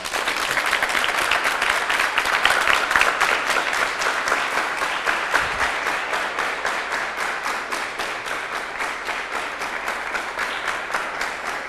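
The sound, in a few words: audience applause welcoming an expert on a TV show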